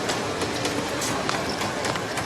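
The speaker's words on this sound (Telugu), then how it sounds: "ట్రైన్ వచ్చినట్టుంది" A train rolls in at a station, a dense continuous rumble and rattle with a few faint clacks, heard alone for a couple of seconds.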